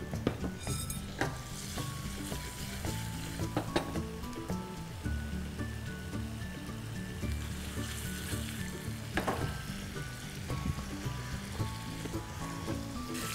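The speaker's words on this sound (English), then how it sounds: "So all we're doing is a quick stir fry just to sear the paneer." Paneer searing in a quick stir fry for Indo-Chinese rice noodles, with a steady sizzle throughout. Music-like tonal layers run underneath, and occasional scrapes or clatters rise above the sizzle.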